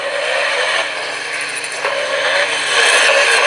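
Tuned tractor engines playing back through a phone's small speaker, a thin, tinny, buzzing mechanical roar with a slight rise in loudness near the end, no talk over it.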